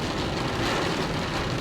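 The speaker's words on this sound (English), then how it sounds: "this rain that I'm driving in" Steady rain hisses and patters against a car driving near a cattle farm, blended with a low road rumble, dense and continuous throughout.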